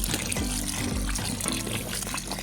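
Tap water runs continuously over glutinous rice being washed clean of its sticky starch, a steady close splashing and trickling stream with no voices.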